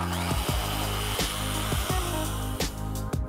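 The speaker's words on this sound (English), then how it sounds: "we're going to start by sanding this side nice and flat, removing all the burrs and anything protruding" A backplate for an MSI GTX 1060 GPU sanded flat with 180 grit, a loud steady mechanical whir with regular rhythmic strokes about every two-thirds of a second, close and without talk.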